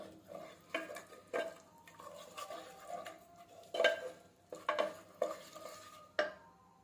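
A spoon scrapes and knocks around a pan as egg pulao masala is stirred and fried, giving irregular close clinks and scrapes over a soft sizzle.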